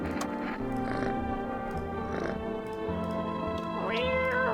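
A cat meowing in the video game No, I'm Not A Human while being petted, several drawn-out, fairly loud meows over a steady background bed, ending on a rising call.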